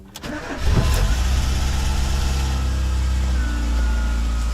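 A car engine cranks briefly and catches after a little throttle pumping, then settles into a loud, steady idle that continues close by, with slight hydraulic lifter ticking.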